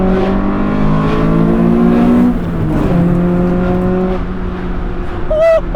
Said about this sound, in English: have a listen to how good this car sounds